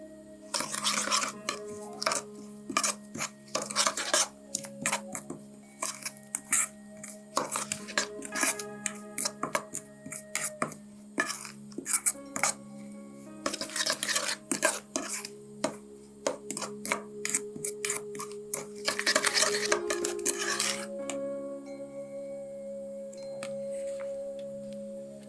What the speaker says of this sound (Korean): 간장 2테이블스푼, 후추, 설탕 1테이블스푼, 소금 반 테이블스푼을 넣고 잘 섞어줍니다